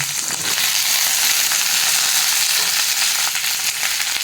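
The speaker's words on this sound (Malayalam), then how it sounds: "വെണ്ടക്കായുടെ വഴുവഴുപ്പ് മാറാൻ വേണ്ടി നമുക്കിത് നല്ലോണം വഴറ്റി കൊടുത്ത് ഇതിൻ്റെ വഴുവഴുപ്പ് മാറുന്ന വരെ നമ്മൾ വറക്കണം" Okra and curry leaves frying in a pan, a loud, steady crackling sizzle with light stirring throughout, heard up close and alone.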